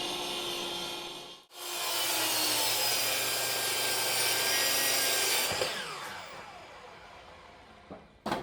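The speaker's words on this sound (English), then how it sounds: "Here we're going to cut our blocks to length so we can get started on our project." Hand saw cutting a wooden 4x4 into blocks, with a long continuous rasping stroke after a brief pause and then a tapering finish as the cut completes, close and clear with no talk.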